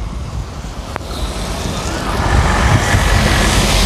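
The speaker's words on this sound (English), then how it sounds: "the rainwater is going bigger" Heavy rain pours onto a street in Kathmandu, making a dense, broadband wash that swells louder in the second half, with a brief sharp knock near the start and no talking.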